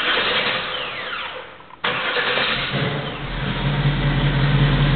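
A 1966 Chevrolet Nova II SS cranks with a brief dip, then its engine catches at once and settles into a loud, steady idle with a low rumble close by.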